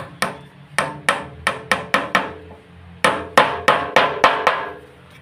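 Nails are driven into old reclaimed wood while building a door frame. Sharp, loud hammer blows land close in two fast runs of about six strikes each, with a short pause between them.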